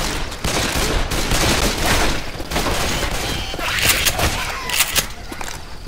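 Rapid gunfire rattles in the co-op shooter game Left 4 Dead 2, dense overlapping bursts of shots filling the whole stretch with loud, continuous crackling and booms, and a few faint voices mixed underneath.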